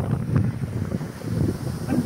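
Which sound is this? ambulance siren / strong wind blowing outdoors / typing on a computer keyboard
strong wind blowing outdoors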